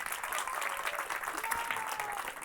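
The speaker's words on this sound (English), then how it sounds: "So give her a round of applause." An audience claps steadily for a professor on a panel at the Littfest literature festival in Umeå, a dense, even patter of many hands filling the hall for the whole stretch without a break.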